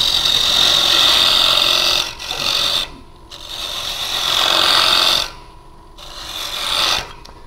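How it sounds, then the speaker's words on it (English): A carbide tool cuts walnut on a wood lathe, giving a loud, close, continuous rasping scrape that runs in long passes. It drops away briefly between passes and then resumes, with no voices. "carbide tool is really good for getting wood out of the way quickly."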